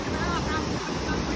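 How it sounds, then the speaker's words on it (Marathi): Water rushing down a waterfall near Kondeshwar, a steady broadband roar that carries on without a break, with wind buffeting the microphone. "तेवढ्या वरतून पाणी येतोय बघा"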